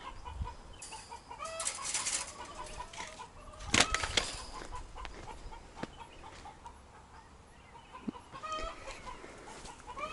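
Backyard chickens cluck in short repeated calls close by, with a few sharper squawks and wing flaps against faint outdoor background, no talking.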